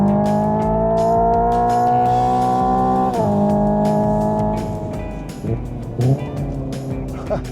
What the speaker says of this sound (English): Downshifting blips?